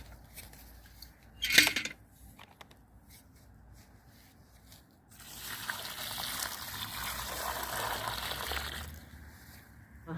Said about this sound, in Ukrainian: Тепер заливаємо водичкою.